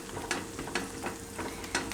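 Sliced pav bread toasts in melted butter with green coriander in a pan for Jain pav bhaji, giving a soft, steady sizzle broken up by light scraping and stirring touches, with no talking.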